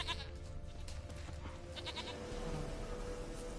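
A goat in The Witcher 3 gives a short, nasal bleat over a steady game background hum, quavering briefly before fading out.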